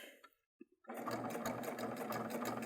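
A serger sewing machine runs steadily while stitching along a curved fabric edge, its fast whirring motor and needle chatter starting abruptly after a short pause and continuing loud and close.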